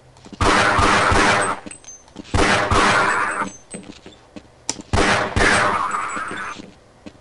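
Three loud bursts of rapid automatic gunfire in the Half-Life video game, each lasting about a second and a half, with brief pauses between them and no talk over the shots.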